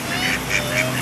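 A few ducks near a park waterfall and little river give repeated honking calls, about three distinct bursts over continuous background rush.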